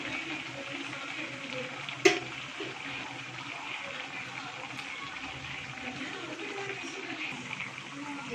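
Sweet dates bonda deep frying in hot oil, a soft continuous bubbling hiss with a sharp clink partway through, faint and steady, no speech.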